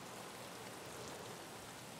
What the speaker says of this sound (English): Is it raining in Russia again?